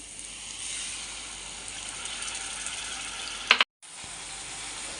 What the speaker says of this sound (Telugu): ఇలా నూనె బయటకు వచ్చేదాకా వేయించుకోవాలి